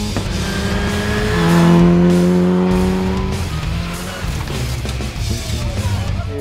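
An Opel Adam rally car from a junior rally cup revs hard close by, its engine note climbing and then falling away, loud and alone with no talking.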